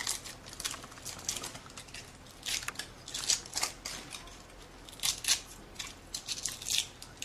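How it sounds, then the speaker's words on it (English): Aluminum foil is peeled away from a set prosthetic impression, giving a quiet run of crinkling, crackling bursts that come in irregular spurts, near and alone. "Then you just pull this aluminum foil."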